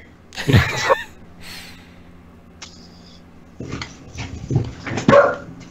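A dog barks in a few short bursts at moderate distance, with quieter yips and shuffling between them in an indoor room.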